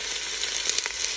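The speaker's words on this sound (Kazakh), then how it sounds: "Достар, мінекей жуасын салып қуырамыз" Chopped onions fry in a little hot oil for Kazakh lentil soup, a close, loud, continuous sizzle with a few crackling pops and no talking.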